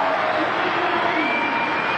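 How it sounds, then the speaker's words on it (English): Arena crowd cheering and applauding for a 15-year-old gymnast at a world championship, a dense continuous roar of many voices throughout. "Crowd loving her."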